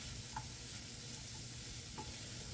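Canned chicken and chickpea mix stirred in a bowl, a faint, soft scraping and mushy churning with a couple of light utensil taps and no talking.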